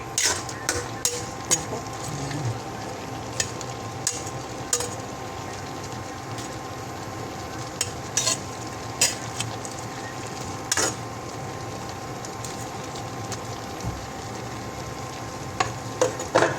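Vegetables and prawns sizzle steadily in a hot pan while a utensil stirs them, with sharp scraping clacks recurring every second or so against the constant frying hiss.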